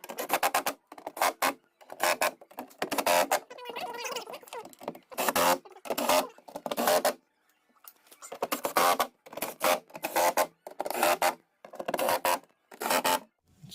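A cordless impact wrench on its lowest setting drives door handle bolts on a 2008-or-later Infiniti EX35, giving a series of short, loud, rattling bursts separated by brief pauses, with no talking.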